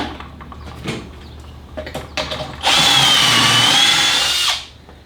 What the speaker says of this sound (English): after I've finished drilling all these holes